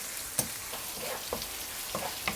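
Pork bulgogi with garlic frying in a pan, cooking toward kimchi fried rice: a steady quiet sizzle broken by a few sharp clicks and scrapes of a utensil against the pan.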